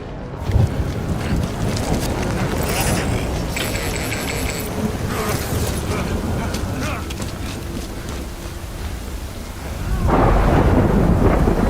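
Thunder and steady rain from a storm in the video game Death Stranding, a continuous loud wash of rainfall with rumbling thunder and a heavier, louder surge near the end, with no voices.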